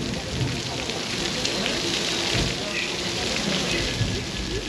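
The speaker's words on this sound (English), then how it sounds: "We want rain, so we're going to activate the sprinklers." Film-set sprinklers on the Universal Studios Los Angeles backlot shoot water into the air to make artificial rain, giving a steady, dense hiss of falling water like a downpour throughout, with faint voices beneath.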